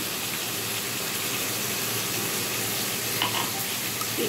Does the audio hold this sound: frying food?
yes